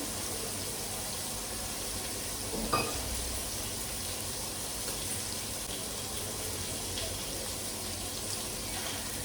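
Water is poured from a glass into a pot of rice for coconut milk rice in a home kitchen. The pour is a steady, soft, continuous splashing hiss that lasts the whole time, with no talking.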